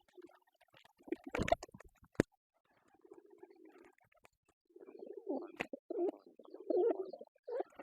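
Soft pigeon coos close by, in low throaty bursts that grow busier toward the end, with a few sharp knocks and rustles in between.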